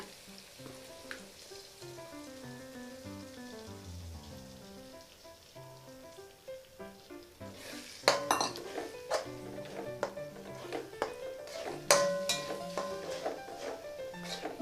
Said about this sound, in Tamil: ஒரு 5 முட்டை போட்டுக்கலாங்க.